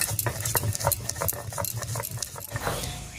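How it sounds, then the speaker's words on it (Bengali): Dried red chilli being ground and worked into a dandakalas leaf paste, a rapid run of scraping and tapping strokes of a stone or utensil, close and soft with no voices. "এবারে এই শুকনো লঙ্কাটা হালকা বেটে এর সঙ্গে মিশিয়ে নেব।"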